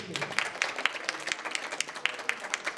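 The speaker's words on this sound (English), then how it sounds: "she deserves a big applause." Members of a women's club applaud at a meeting, a modest round of clapping with individual claps standing out, fairly close, no speech over it.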